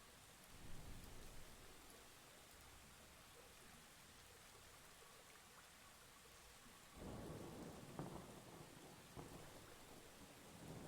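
Steady rain falls during a thunderstorm, with low rolling thunder that swells and then a louder crack and rumble partway through, continuous and fairly near.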